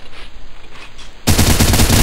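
Loud automatic gunfire from a video game bursts in suddenly after a second of quieter background and keeps hammering steadily to the end, close and forceful.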